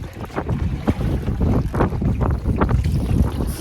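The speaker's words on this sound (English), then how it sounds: "Quite the headwind here." Gusty headwind buffets the microphone on a lake while a solo canoe is paddled, rough roaring wind noise with faint water sloshing throughout.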